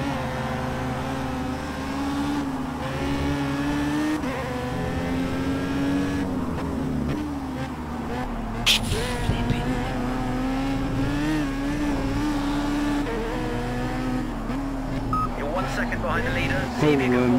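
BAC Mono race car engine in a racing game at Dubai Autodrome, a loud continuous high-revving drone with rising and falling pitch through gear changes, close and steady, with someone talking over it.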